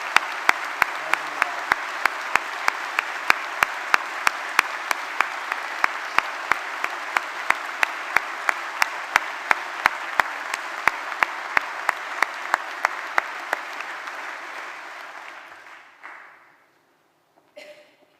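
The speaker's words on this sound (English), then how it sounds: "Can we give them a big round of applause?" Audience applause at a summer university graduation ceremony, a dense sustained wash of clapping with a steady rhythmic beat running through it, lasting most of the stretch before fading out to silence near the end.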